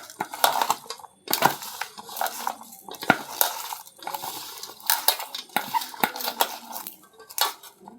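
Garlic is pounded and crushed in a home kitchen. Repeated sharp knocks come in uneven bursts, close and fairly loud, with clinks like utensils or a pan between the blows. Nobody speaks.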